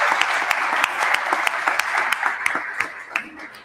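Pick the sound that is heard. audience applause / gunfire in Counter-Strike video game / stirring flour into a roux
audience applause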